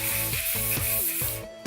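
A steady hiss of dry shampoo aerosol spray runs for over a second, with soft background music playing underneath.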